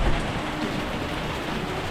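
Heavy rain pours down in a steady, roaring hiss at close range, a dense unbroken wash with a low rumbling undertone and no voices.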